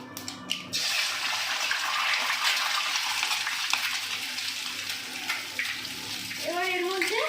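An egg is cracked into hot oil in a kadai. A small tap is followed by a steady, loud sizzling hiss that carries on throughout, and a brief voice comes in near the end.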